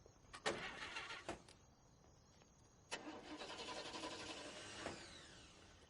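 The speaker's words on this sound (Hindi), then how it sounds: "तुम्हारी गाड़ी खराब हो गई क्या? पता नहीं, स्टार्ट नहीं हो रही।" A car engine cranks without catching, in two long whirring bursts separated by a pause, loud and close with no talk.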